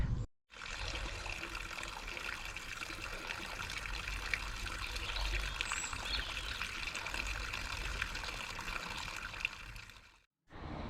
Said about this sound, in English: That stream is a nice accompaniment to the walk back up the hill